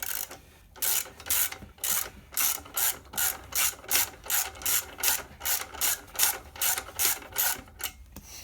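Ratchet wrench tightening bolts during a clutch install on a dually truck: loud, close, rapid bursts of metallic ratcheting clicks in a steady back-and-forth rhythm, about two strokes per second, with no talking.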